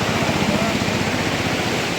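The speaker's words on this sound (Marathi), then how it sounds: "बाजू तुडुंब अशी भरून जात आहे ही पूर्णा नदी" The flooded Purna river at Deulgaon Mahi overflows its banks and submerges a small bridge, giving a constant, dense roar of rushing water that stays loud and even from start to finish.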